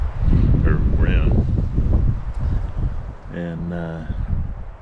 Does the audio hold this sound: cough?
no